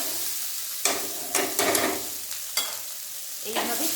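Cooked jeera rice sprinkled with chili powder is tossed and stirred in a hot pan, giving a steady soft sizzle broken by several sharp scraping strokes.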